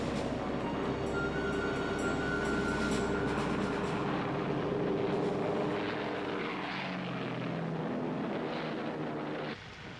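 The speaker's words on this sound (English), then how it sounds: "A trio of heavily armed four-engine bombers, the Stirling, Halifax and Lancaster, were carrying the war back to the German people." WWII four-engine RAF bombers such as the Stirling, Halifax and Lancaster drone overhead in a heavy, continuous propeller roar that swells and then fades, with no talking.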